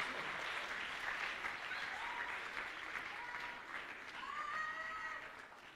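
An audience at the Swiss Fantasy Show 2018 cosplay contest applauds a contestant, a steady wash of clapping that holds for several seconds with faint voices mixed in.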